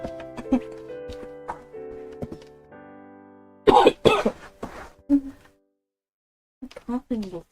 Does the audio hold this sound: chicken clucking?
no